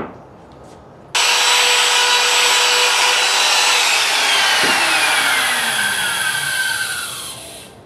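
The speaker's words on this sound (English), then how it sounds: "use the router and round off the edge of the platform" A power router rounds off the edge of a wooden lamp platform, starting abruptly with a loud, high whine that cuts steadily for several seconds and then tapers off, close and alone.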